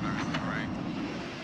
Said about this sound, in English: its fighter takes off in less than 500 feet, then goes supersonic